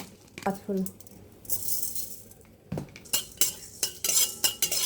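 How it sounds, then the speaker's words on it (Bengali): Cardamom and black pepper dry-roasting in a dry wok, with metal utensil scrapes, clinks and rattles against the pan in irregular bursts, close up and moderately loud. "আমি শুকনো কড়াইতে এলাচ আর গোলমরিচ আমি একটু ভেজে নেব"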